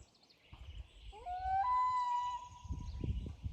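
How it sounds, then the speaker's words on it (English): A common loon's long, wavering wail rises and holds in the distance, eerie and clear against a quiet lakeside background at Ten Mile Lake, Minnesota. "That was a beautiful loon if you heard that bird call."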